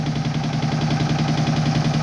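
A Peter diesel engine drives a flour mill (atta chakki), thumping out a steady, fast rhythmic chug with a continuous low hum. It runs loud and unbroken throughout, with no talk over it.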